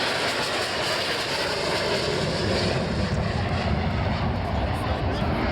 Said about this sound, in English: That actually's got a Clerget engine in it, isn't it?